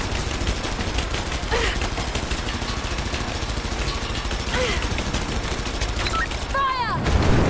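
Gunfire in the Rise of the Tomb Raider video game, loud rapid bursts of shots cracking continuously over an engine-like rumble, with a few whooshing projectile sweeps and a shouted voice near the end.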